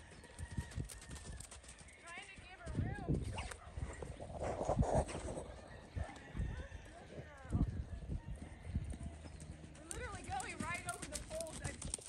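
A Tennessee Walking Horse working on a lunge line makes faint rhythmic hoofbeats across a lesson arena while people talk over it, with a dog barking and birds calling in the background.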